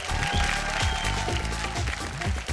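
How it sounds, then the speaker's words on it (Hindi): Audience applause welcoming judges and contestants on a televised Bhojpuri reality show stage, loud clapping under a booming musical beat with sustained tones. "जोरदार तालियों से स्वागत करी"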